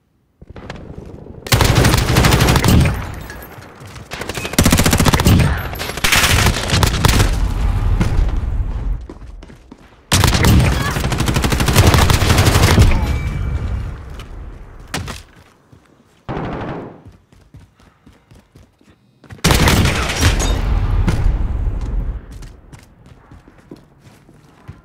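Automatic and single gunfire from a Modern Warfare gun game match, loud dense bursts in several long stretches separated by short pauses, with a brief isolated volley midway.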